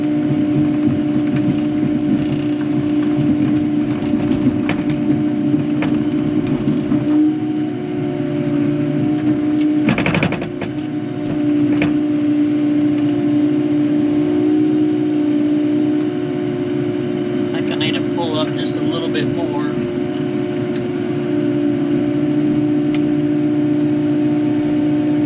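A Kubota tractor drives over a trench while connecting ditches, its engine running in a loud, steady drone throughout with a brief clatter partway through.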